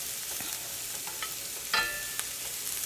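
Cremini mushrooms sauté in melted butter in a pan over lowered heat, producing a constant close sizzle with light stirring scrapes and a brief clatter of the spoon.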